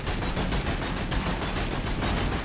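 A machine-gun-like weapon in the video game Downtown Deliverer fires a rapid, dense burst of gunfire that keeps going without a break for the whole stretch. It is loud and close, with no talking.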